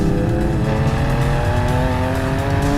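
A BMW M4 roars down a race track's main straight at around 200 km/h, its engine note steady and loud throughout with a sustained high-speed drone and faint tire noise, no voices.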